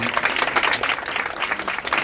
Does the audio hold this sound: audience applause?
yes